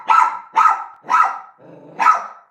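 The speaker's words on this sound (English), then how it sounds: "it's those fucking dogs on their way back" Dogs bark in a quick series of four sharp, loud barks close by, with a low growl between them.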